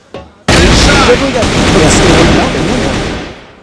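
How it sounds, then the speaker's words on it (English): In a tactical shooter match from a competitive tournament, a loud, close burst of gunfire from a headshot crackles out abruptly, followed by sustained noisy game action and commentators talking over it. "There was that was a really nice headshot from Taicang. Mid-air, hard shot"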